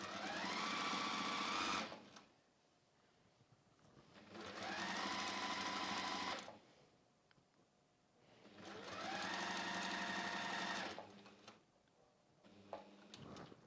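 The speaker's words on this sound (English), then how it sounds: "I will just turn around and sew down that side" Sewing machine stitching down the side of a fabric flexi-frame pouch, running in three long steady bursts of fast needle chatter separated by quiet pauses while the fabric is repositioned.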